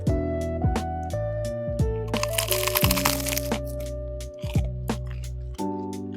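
Sharp, crisp crunching bites into crispy fried tofu, several loud cracks and crackles spaced through the clip over low background music.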